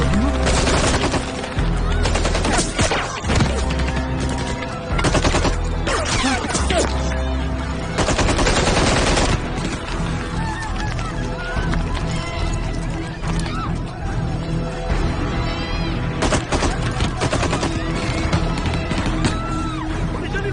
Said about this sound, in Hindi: अरे बाहर गोलियों चली रही है।